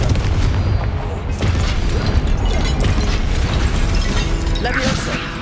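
Confringo blasting spell explosions in Hogwarts Legacy: loud, close booms and bursts pounding over a dense rumbling battle mix, with a voice talking in the background.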